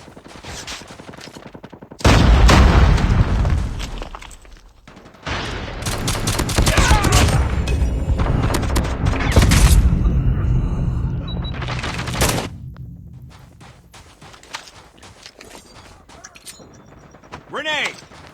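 A grenade goes off amid gunfire in a shooter video game: a dense burst of loud gunshots and a blast for several seconds, then quieter scattered shots and game sounds.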